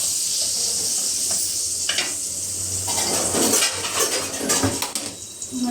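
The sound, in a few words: onion being added to a pan of gravy, sizzling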